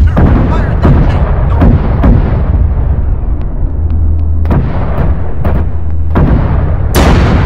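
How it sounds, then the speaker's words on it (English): Heavy booming gunfire from a tank cannon engaging an enemy tank, several loud low blasts with long rumbling decays, spaced irregularly against a constant engine-like drone. "Fire at that tank, north."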